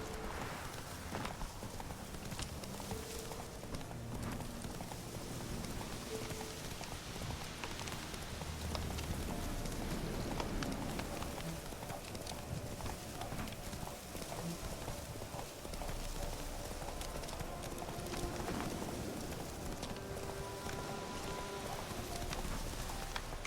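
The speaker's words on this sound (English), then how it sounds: "Run, Roach." Hooves of the horse Roach in The Witcher 3 clip-clop in a fast, continuous galloping rhythm over a steady patter of rain, with faint bird calls in the background.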